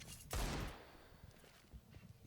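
A single loud Desert Eagle pistol shot in a CS:GO pro match on the Mirage map, FaZe vs. NiP, followed by softer footsteps and faint game noise.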